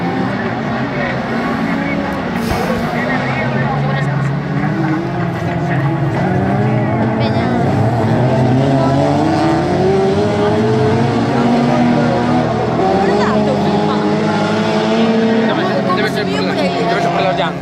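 Autocross race cars in a semi-production over-1600 class pass the finish line with a loud, continuous engine roar and shifting revs, while an announcer talks over the noise throughout.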